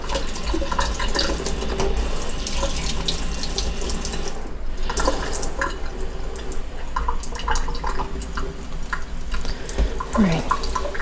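Warm tap water runs steadily from a faucet for the whole stretch, a constant splashing stream with small drips and clatters, while pepper seed starting soil is prepared indoors.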